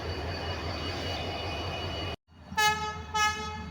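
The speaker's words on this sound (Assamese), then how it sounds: "এইখন ট্ৰেইন এৰি দিলে" The 15818 Donyi Polo Express pulls away: a steady, loud rumble of moving rail cars stops abruptly, followed by two short, bright horn toots close by.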